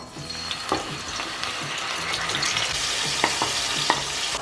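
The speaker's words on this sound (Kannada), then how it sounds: "ಸೊ ಈಗ ನಾವು ನಾನು ಮ್ಯಾರಿನೇಟ್ ಮಾಡಿರೋ ಪ್ರಾನ್ಸ್ ಅನ್ನ ಈಗ ತುಪ್ಪದಲ್ಲಿ ಹಾಕ್ತಾ ಇದ್ದೀನಿ" Marinated prawns frying in ghee give a steady, dense sizzle and crackle throughout, with a few sharper pops and spatters standing out near the end; no one speaks.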